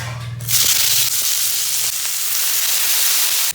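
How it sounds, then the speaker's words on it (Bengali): Potatoes drop into plenty of hot oil in a wok and fry with a loud, steady, close sizzling hiss that starts abruptly and continues without a break. "কড়াইতে আমি তেল দিয়ে দিয়েছি তো বেশি পরিমাণেই দেওয়া হয়েছে কারণ এই তেলের মধ্যে সমস্ত সবকিছু আমি ভেজে ফেলবো"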